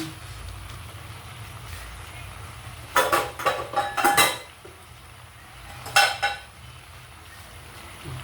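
Metal lid clanks onto a pot of chicken adobo in a home kitchen, a short cluster of bright rattling knocks followed by one more clatter a few seconds later, close and fairly loud over low background hum.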